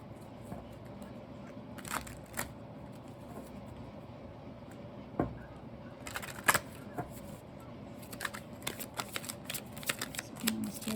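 Animal spirit oracle cards being shuffled by hand, with quick papery riffles and soft taps coming in scattered bursts, faint and close, over a low background hum.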